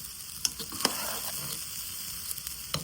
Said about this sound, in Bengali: তো এটার মধ্যে আমি গরম ফোটানো পানি দিয়ে দেব।